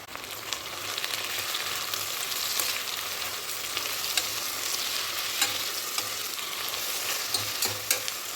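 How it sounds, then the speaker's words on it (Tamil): Steady sizzling of onions and mint sautéing in a pan, continuous and close, with occasional soft stirring clicks and no talking. "இதில் ஒரு கைவிடி அளவுக்கு புதினா போட்டு வெங்காயத்து கூடயே வதக்கிக்கலாம்"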